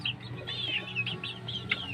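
Newly hatched, month-old incubated chicks on a farm, peeping in a dense, continuous chorus of high, overlapping chirps with a few louder calls standing out, heard close up.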